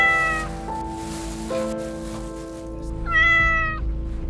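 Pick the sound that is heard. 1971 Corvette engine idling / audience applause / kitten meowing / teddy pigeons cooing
kitten meowing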